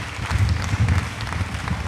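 An audience at a talk event applauds its invited resource persons: a steady, dense wash of clapping that lasts the whole moment at moderate loudness, with no voices over it.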